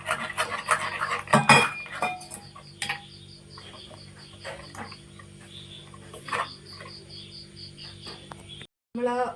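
Jackfruit snack batter being mixed in a bowl, a spoon tapping and clinking against the sides in quick, uneven strokes, loudest early on and then lighter, with a faint steady background hum.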